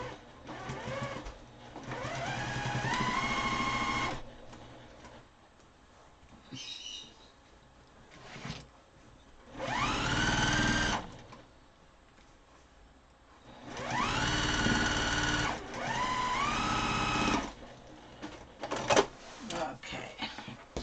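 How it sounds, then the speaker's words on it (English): Sewing machine stitching quilt rows together, several bursts of rapid whirring stitching a few seconds each, separated by pauses with quieter handling noises. "Now, I'm going to sew 2 rows together because we are done 2 rows."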